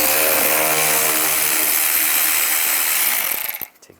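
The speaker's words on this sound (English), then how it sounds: "And then take these screws out. Use a T20 socket." A ratchet with a T20 socket backs out screws while a horn is replaced on a 2010-2017 Chevy Equinox, rapid loud clicking that runs continuously for about three seconds and then stops abruptly.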